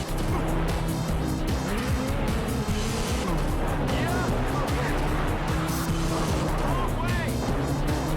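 Racing video game with land, air and sea vehicles: a continuous race engine roar with rising and falling pitch and repeated tire squeals, with voices talking over it.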